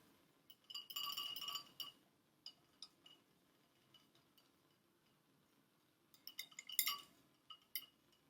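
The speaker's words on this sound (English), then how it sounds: "So I'm going to gently stir this." A small rod stirs copper oxide into acid inside a glass test tube, giving faint, delicate clinks and taps against the glass in two clustered bursts separated by quiet, close and soft, with no speech.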